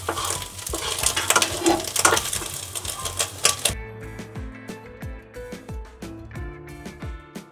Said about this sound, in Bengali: দেখো বন্ধুরা, আমার ডিম ফ্রাই হয়ে গেছে।